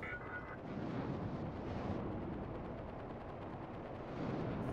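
Ship weapons firing in the space combat game Star Citizen, a dense continuous roar of rapid gunfire and blasts filling the whole stretch, steady and loud with no pauses.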